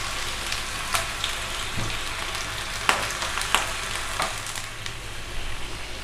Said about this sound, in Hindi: तब तक जो है ना मैं इन आलू को करती हूँ फ्राई।